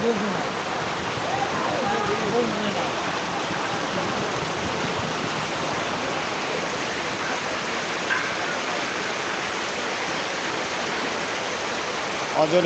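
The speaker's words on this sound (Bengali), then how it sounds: "বৃষ্টি আসছে বৃষ্টি ঝরছে দেখুন" Steady rain falls across a dark late afternoon outdoors, a dense continuous hiss with scattered drops and no pauses, heard alone throughout.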